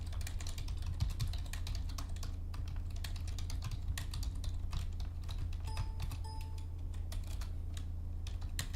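Steady, rapid clatter of keys as C++ code is typed on a computer keyboard, close and continuous over a constant low hum, with no talking.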